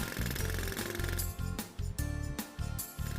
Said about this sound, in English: A jackhammer.